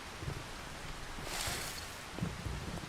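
Steady, soft rain falls in the Farming Simulator 25 video game, a faint continuous hiss with a brief swell of brightness midway and no talking.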